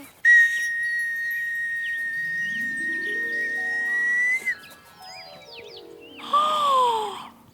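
A magic toy whistle from a Slovak children's song sounds a long, steady high tone for about four seconds. A glissando and a tinkling flourish follow, then a shorter sliding whistle call, all clear and close with music underneath.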